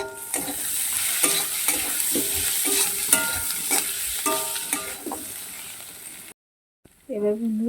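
Chopped tomatoes frying in a pan with a steady hiss of sizzling oil and rhythmic scraping strokes of a spatula, followed after a brief break by someone speaking.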